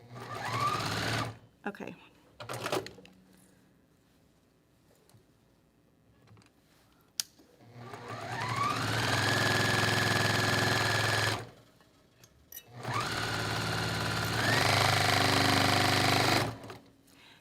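A sewing machine stitches woven star quilt blocks in two long steady bursts at close range, with short runs and pauses between them and a brief spoken word early on.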